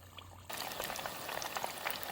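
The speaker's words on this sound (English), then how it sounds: "we're going to stick it in there, and it'll start frying up" Lao egg rolls filled with pork and zucchini drop into hot oil, and a quiet hum gives way abruptly to a dense, steady crackle and sizzle of frying that continues evenly.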